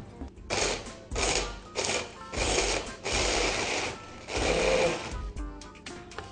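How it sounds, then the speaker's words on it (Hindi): Kitchen blender running in repeated loud bursts, blending sambal sauce ingredients of peanuts and soy sauce for Indonesian chicken sambal, the motor pulsing on and off about six times. "हमने अब इसको ब्लेंड करना है।"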